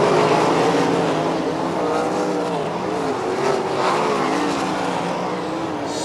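Race cars roar around Lernerville Speedway in heavy lap traffic, a dense, continuous wall of engine noise that rises and falls slightly as the pack passes, with no voices.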